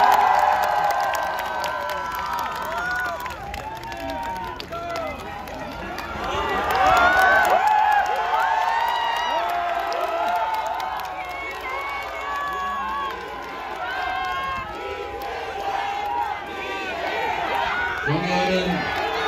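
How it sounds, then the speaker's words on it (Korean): Dense crowd cheering, whooping and clapping at an outdoor Democratic Party political rally in Daegu, a loud sustained roar with shouts rising and falling over about twenty seconds. "박수로 맞아주십시오."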